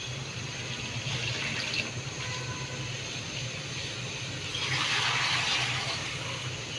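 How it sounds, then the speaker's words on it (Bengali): Water is poured into a cooking pot of goat meat with chana dal, making a steady rushing, splashing flow that swells louder near the end, close and without talk. "এখন আমি পানি দিয়ে দেবো।"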